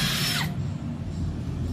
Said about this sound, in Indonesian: Jadi dalam pengeboran ada satu teknik yang namanya tarik dorong.